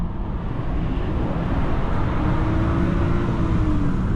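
A 2011 BMW 535i with a standard, stock exhaust drives under steady load. Its engine and exhaust make a smooth, continuous drone, with road and tyre rumble close by inside the car.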